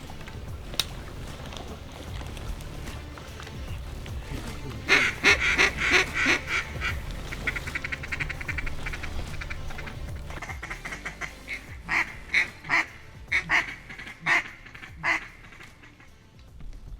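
Mallard ducks at a hunting spot called Fowler's Point quack in a series of loud calls over a steady outdoor background, with a cluster around the middle and more calls near the end.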